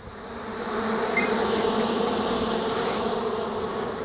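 Honey bees at an opened beehive during hive handling: a dense, continuous buzzing drone, close and steady throughout, with no speech.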